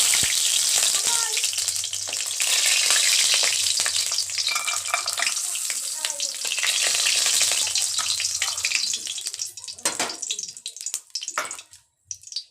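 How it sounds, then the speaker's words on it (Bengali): Lentil dumplings (bori) fry in hot oil, crackling and sizzling loudly and steadily, then the sizzle thins toward the end into sparse pops and clattering stirring sounds. "তেল গরম হয়ে গেছে, আমি বড়িগুলো দিয়ে দিয়েছি। বড়িগুলো ভেজে তুলে রাখবো।"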